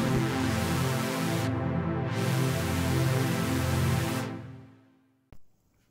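A sustained buzzy synth chord whose filter brightness, swept by an expression pedal, sweeps down, opens up again and closes once more, then fades out with a brief click at the end.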